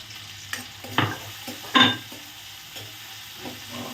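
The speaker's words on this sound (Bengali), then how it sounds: "কাজু কিচমিচটা ভেজে নেবো" Cashews and raisins tossed briefly in hot oil give a soft sizzle, with a few sharp stirring scrapes and clinks from the utensil against the pan in a quiet kitchen.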